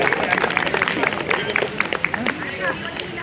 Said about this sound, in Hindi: जोरदार तालियां दिनेश जी के लिए।